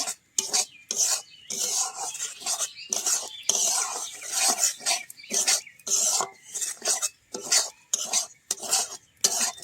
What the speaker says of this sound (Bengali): সুজিটাকে আমি ভালো করে ঘিয়ের সঙ্গে ভেজে নেব।